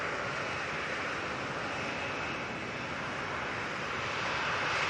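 A KLM airliner at Manchester Airport gives a continuous, fairly faint broadband engine roar, steady and somewhat distant, with one brief spoken word.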